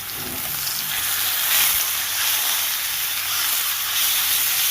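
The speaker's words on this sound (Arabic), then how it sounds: "هنا في الزيت في المقله راني دايره الزيت تاعي، نحط الكفته هو اللحم المرحي" Minced meat kofta sizzles steadily in hot oil in a frying pan, a loud continuous hiss with no break and no talking.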